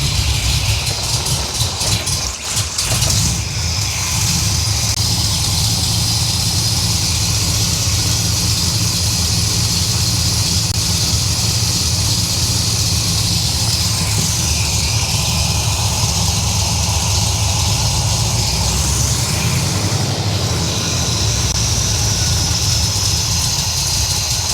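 A 1978 Corvette L-82 V8 with side pipes idles steadily and loudly for the whole stretch, a rough, even rumble that holds level after a brief stutter near the start.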